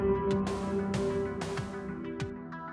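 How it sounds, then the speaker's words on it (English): One hundred convolution reverbs running at once on GPU audio processing build a dense, washy sustained tone with smeared transients and hits swelling and fading inside a thick reverberant cloud, with no voices. "This is the sound of 100 convolution reverbs playing at the same time."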